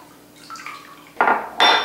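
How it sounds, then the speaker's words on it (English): A spoon scraping and clinking against a metal pot while milk and dissolved citric acid are stirred over medium-high heat for homemade mozzarella, two sharp close scrapes following a softer ringing start. "I'm going to keep stirring it because I don't want the bottom to burn"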